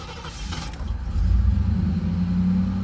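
A 1986 Chevrolet Camaro IROC-Z engine cranks and catches on the first try, rising to a low, rumbling idle that holds steadily to the end.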